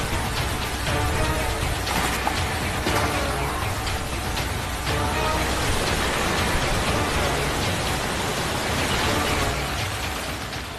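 Heavy monsoon rain pouring down during flooding in India's big cities, from Hyderabad to Mumbai, a dense, constant hiss of downpour that stays loud and even for the whole stretch with no speech.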